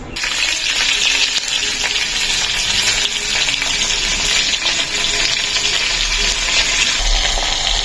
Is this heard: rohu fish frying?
yes